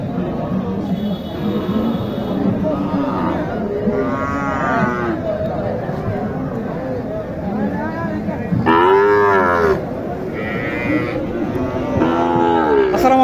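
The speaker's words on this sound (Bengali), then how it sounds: "এটা কি জাতের গরু ভাই? সাইওয়াল।" Sahiwal-Gir cross cattle at a bustling livestock market low repeatedly, several loud nearby moos rising over a busy crowd with voices talking throughout.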